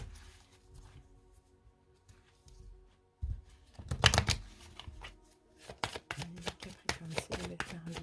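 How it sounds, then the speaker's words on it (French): Tarot cards, a major arcana deck, being shuffled by hand, with soft riffling early on and then a burst of sharper, rapid card slaps and clicks in a quick irregular rhythm, close and fairly quiet. "on y va avec les arcanes majeures de l'héritage du tarot divin. On va bien les mélanger"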